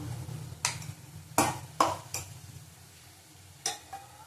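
A spoon stirs ginger-garlic paste in a cooking pan for a raw banana and potato curry, making a few sharp scraping clinks against the metal over a faint sizzle.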